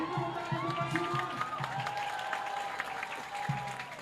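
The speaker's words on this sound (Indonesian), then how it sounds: "Beri tepuk tangan untuk Pasuruan." A football crowd at a Liga 4 Jatim match between Persepam Pamekasan and Pasuruan United applauds steadily for Pasuruan, a dense wash of clapping with scattered cheers and a voice carrying over it.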